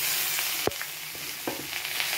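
Pointed gourd goes into a pan of fried onions, with one sharp clatter as it lands, then a soft steady sizzle and a few light stirring scrapes nearby, no talking.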